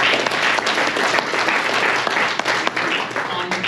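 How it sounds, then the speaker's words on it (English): Steady, dense applause from a banquet audience at a pickleball awards celebration, sustained throughout with even intensity and scattered voices mixed into the clapping. "Let's give them and those who could make it only in spirit a round of applause"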